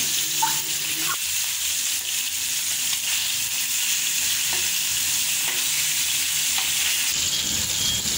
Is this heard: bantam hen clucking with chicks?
no